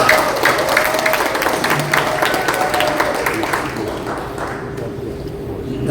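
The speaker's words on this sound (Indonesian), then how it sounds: "Tepuk tangan, jangan tanggung-tanggung." Applause from a large audience at a Protestant church council gathering, steady clapping filling a big hall and tapering off toward the end, with voices murmuring underneath.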